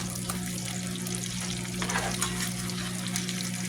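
Burger patties fry over low heat in a non-stick pan after being flipped, making a steady close sizzle with faint crackles over a low background hum.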